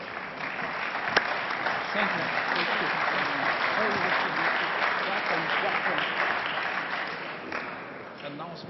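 Steady, dense audience applause in a large hall at the EPP Congress party gathering, continuous clapping throughout with a brief spoken thanks over it.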